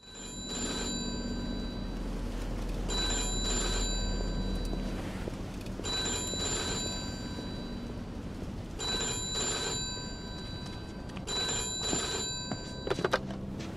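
An old-fashioned telephone bell rings in repeated bursts with pauses between them in a Mafia 2 game scene, moderately loud against a steady low background hum.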